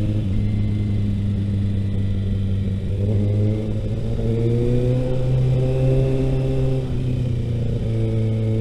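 Steady road traffic rumbles past on a cold Sydney morning, with car and motorcycle engines droning and rising in pitch as vehicles accelerate by at moderate distance, continuous and fairly loud throughout.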